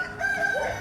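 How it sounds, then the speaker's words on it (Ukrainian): A rooster crows once in the distance at a zoo, a thin, drawn-out call rising over faint outdoor background noise. "Я чую, там вже півні співають."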